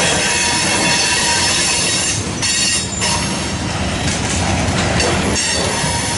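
A freight train rolls past loudly at Hobson Yard in Lincoln, Nebraska, heavy rumbling with metallic wheel squeals and clatter rising and falling across the pass, no voices.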